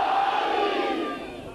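A crowd at a majlis, a religious gathering, shouts the Naara-e-Haidari slogan together in a loud, sustained roar that rises and then fades slightly toward the end.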